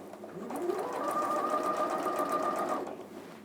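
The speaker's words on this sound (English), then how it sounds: "just stitch all the way down" A sewing machine stitches steadily down a length of fabric during a dressmaking demonstration, its motor whirring in one continuous close run for about two seconds.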